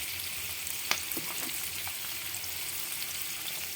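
Cardamom pods, a cinnamon stick and Kashmiri chilies fry in hot oil along with thickly cut onion, giving a steady bright sizzle with a light knock near the start, close and alone.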